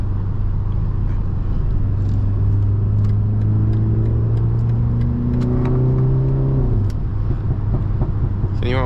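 A 340 hp BMW 330i four-cylinder engine revs hard from inside the car, its loud droning note climbing steadily in pitch for several seconds before dropping sharply as the revs fall.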